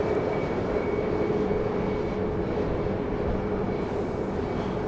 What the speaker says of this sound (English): This should be flight 1724, MAX 8, going to St. Louis